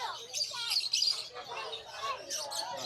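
Lovebirds chirping busily at an outdoor bird market plaza in Malabon, a close, continuous flurry of high tweets and squawks with people talking nearby.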